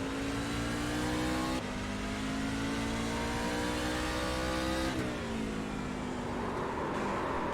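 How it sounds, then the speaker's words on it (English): Onboard a race truck, a loud engine drones and revs steadily, then its pitch drops and shifts as the driver brakes hard into a corner, with the engine note carrying on afterward. "Listen carefully to his braking as he enters that corner."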